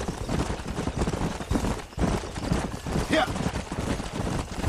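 A herd of horses galloping in the video game Red Dead Redemption, a dense rumble of hoofbeats running steadily under a brief spoken word, with a faint whinny partway through.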